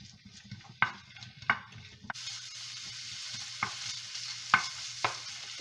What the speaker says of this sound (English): Okay, we're ready to brown the sausage.